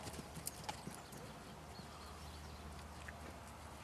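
Horse hooves clip-clop faintly at a distance during a riding lesson, a soft steady rhythm of steps over quiet background noise.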